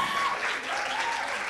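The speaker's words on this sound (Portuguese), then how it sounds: "eu peço novamente uma salva de palmas" Loud, close applause fills a graduation ceremony hall as the audience claps steadily for a former state vice-governor, with a faint voice riding over the crowd.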